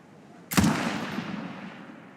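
A single sharp gunshot cracks out in the adventure game Murder in the Alps, loud and close, followed by a long decaying echo and rumble.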